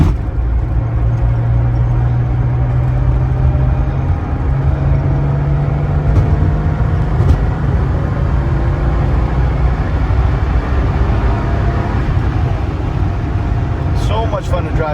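A 1977 Porsche 930 driven fast, its engine producing a loud, steady roar with road and wind noise throughout, a low drone holding under a constant wash of sound; a voice talks over it in places.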